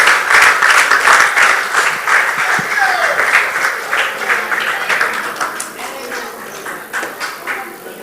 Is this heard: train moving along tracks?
no